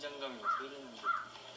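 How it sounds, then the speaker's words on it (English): A bird gives two crow-like caws about half a second apart, fairly close, over a steady background, with a voice murmuring alongside. "Ah, the bird!"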